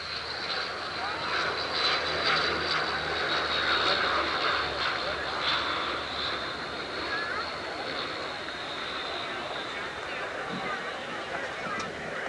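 A Conair-modified Fokker F-27 turboprop flies past at an airshow, a continuous propeller-engine drone with a high whining tone, loudest early on and then holding steady at a moderate level.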